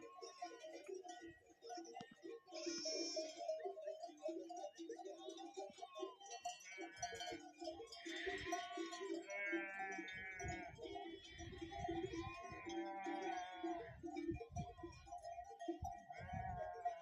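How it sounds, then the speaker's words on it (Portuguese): Sheep bleat repeatedly with the clinking of sheep bells in the mountains of Lesotho, a steady pastoral mix of calls and metallic tinkling held at moderate loudness throughout. "A música do cincerro das ovelhas."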